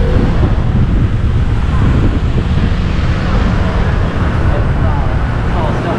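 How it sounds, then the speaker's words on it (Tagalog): Strong wind buffets the microphone in a loud, constant roar with low rumbling gusts, drowning out any other sound, in Hsinchu, Taiwan. "Medyo malakas ang hangin ngayon."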